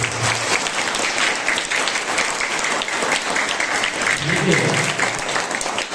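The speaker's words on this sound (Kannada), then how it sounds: "ಹಾಗಾಗಿ ಜೋರು ಚಪ್ಪಾಳೆ ಮತ್ತೊಮ್ಮೆ ತರ್ತಾರೆ." Loud, sustained applause from a seminar audience at a school, dense clapping filling the room for several seconds without a break.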